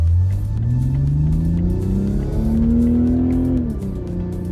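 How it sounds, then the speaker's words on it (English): A 2020 Toyota Supra accelerating hard from inside the cabin, its engine note rising steadily through the revs for a few seconds before easing off at the shift, loud and continuous. "we are taking off in the 2020 Toyota Supra"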